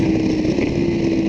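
Loud, close engine roar with a steady pitch as a high-revving motorcycle downshifts, droning without pause.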